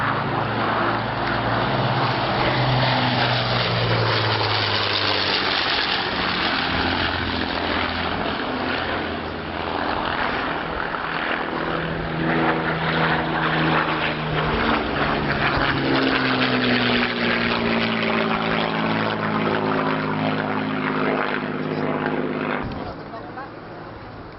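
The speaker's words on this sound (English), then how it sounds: "the very epitome of that organisation, the Avro Lancaster" Four-engine drone of an Avro Lancaster bomber flying at an air display at Old Warden, England, a loud sustained propeller roar with shifting pitch as it passes, under continuous commentary over a public address.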